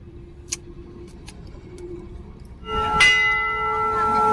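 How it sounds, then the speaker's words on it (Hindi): A few scattered temple bell strikes ring out, then a cluster of temple bells clangs loudly and keeps ringing with a sustained metallic hum. "सामने सब बच्चे घंटी वगैरह चला रहे हैं"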